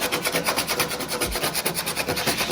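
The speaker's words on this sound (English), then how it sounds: "Gotta get that paint off of there," Paint being scuffed off a 2000 Honda Civic EM1 body panel by hand, a steady rhythmic abrasive scraping of quick back-and-forth strokes, close and continuous with no talking.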